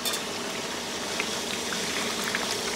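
Coconut milk boiling in a pan as it is cooked down for homemade virgin coconut oil, a steady close bubbling and fizzing with tiny pops throughout and no voices.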